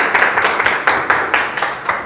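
A small audience at an academic lecture on the 1926 religious conflict in Mexico claps for the speaker, with distinct hand claps in a loose, uneven rhythm, close and fairly loud.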